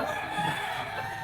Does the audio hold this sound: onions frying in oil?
no